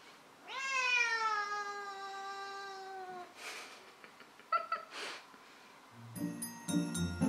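A cat lets out one long, drawn-out meow close by, followed by a few softer rustles and clicks.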